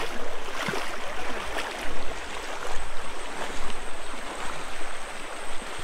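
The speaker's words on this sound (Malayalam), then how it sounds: "നല്ല രീതിയിൽ വെള്ളം നമ്മളെ വലിച്ചോണ്ട് പോകുന്നുണ്ട്" A strong river current rushes past close by in a continuous broadband wash, with periodic surging splashes as the water pulls against people wading through it, no talk.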